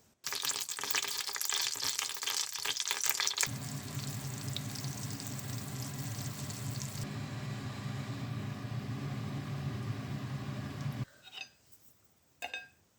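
Butter and garlic sizzle in a hot pan, a steady broadband fry that runs loud and close for about eleven seconds before cutting off, followed by a few brief clinks.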